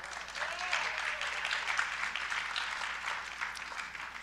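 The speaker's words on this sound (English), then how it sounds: "Round of applause, please." Audience applause at a panel discussion on vaccines, a sustained wash of many hands clapping at moderate volume, steady throughout before gradually easing, with no voices over it.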